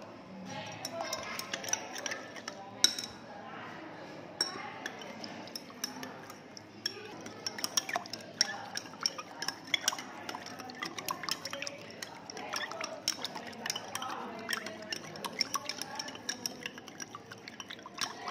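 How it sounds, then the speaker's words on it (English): Eleven grams of salt being stirred into water in a container during a solubility practical, with light tapping and clinking of the stirrer and small liquid sounds repeating steadily throughout. "Now also we stir."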